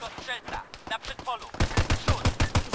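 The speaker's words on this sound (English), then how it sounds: "I'm getting shot at." Gunfire in the military shooter game Arma 3, a burst of sharp shots at first, then a rapid, evenly spaced string of loud close reports like automatic fire.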